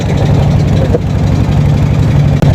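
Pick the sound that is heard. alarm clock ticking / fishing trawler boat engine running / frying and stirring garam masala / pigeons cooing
fishing trawler boat engine running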